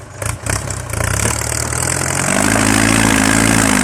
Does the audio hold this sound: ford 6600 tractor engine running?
yes